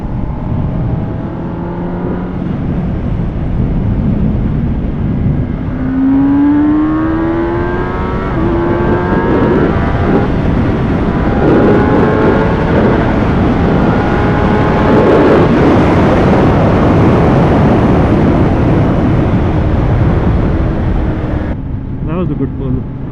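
A Kawasaki ZX10R superbike engine pulls hard under acceleration, rising through the gears with a steady loud roar and wind rush from the rider's position.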